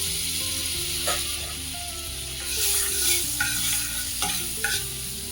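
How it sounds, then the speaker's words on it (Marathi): Onion frying in butter in a pan with cumin over a low flame, a soft continuous sizzle with occasional scraping under steady background music. "आता आपल्याला इथं कांदा परतून घ्यायचा आहे."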